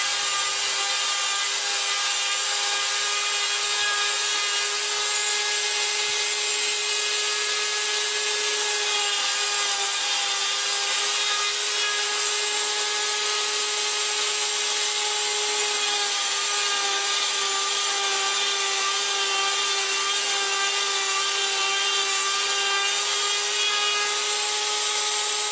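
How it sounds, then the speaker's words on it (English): Router running a triple mortise into wood along a multiple mortise template jig, a continuous loud steady machine whine with a sustained tone throughout, no talk. "with a corresponding multiple mortise template, I'm going to do a triple mortise to go along with that triple tenon I just cut"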